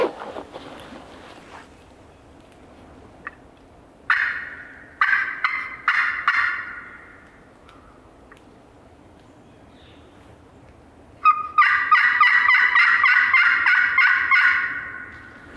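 A wild turkey in Illinois gobbles from a distance in two bursts of rattling, repeated calls separated by a quiet stretch, with no one speaking.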